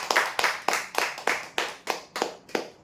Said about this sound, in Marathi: विजेते जोरदार टाळ्या होते